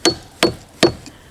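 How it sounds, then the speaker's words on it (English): Hammer striking a chisel set against a crystal geode, three sharp, bright metallic taps evenly spaced about a beat apart, close and ringing briefly after each hit. "you find a nice spot for your chisel. Do a little tap"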